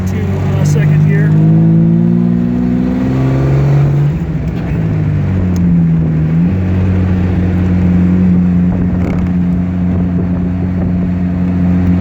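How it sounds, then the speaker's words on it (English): A 1953 Jaguar XK 120 driving and downshifting into second gear, its engine droning steadily up close with the pitch dropping and then settling at the shift, while someone talks over it. "I'm going to back off into second gear and downshift, and there was no grind going down into second gear."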